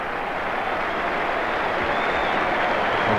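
Cricket crowd at the MCG applauding a wicket during a Test match, a loud, sustained roar of clapping and cheering from a large stadium audience, steady throughout.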